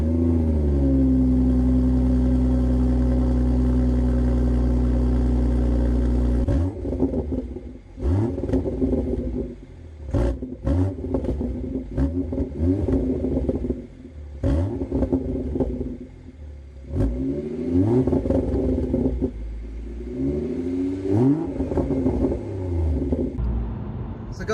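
BMW M140i with an M Performance exhaust drones at a steady idle, then revs hard in repeated sharp blips, with crackling bangs and pops on the overrun, loud and close to the tailpipes.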